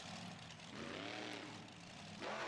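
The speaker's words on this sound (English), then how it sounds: "this is a all-new Hemi engine" A 555 cubic inch BDS blower-equipped Hemi engine in the BeamNG.Drive video game gives a faint, steady droning growl that swells slightly in pitch and volume over a couple of seconds.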